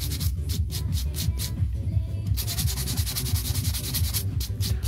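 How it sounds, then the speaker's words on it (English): Hand file buffing and bevelling the inside free edge of an acrylic nail in a salon set, steady close rhythmic rasping strokes in quick back-and-forth repetition. "we're gonna buff and bevel out the inside of the free edge"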